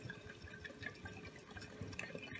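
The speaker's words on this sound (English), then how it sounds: "I just pour the wine" Cheap store-bought wine poured over roots, a steady low liquid gurgle and trickle that continues without a break, close and fairly quiet.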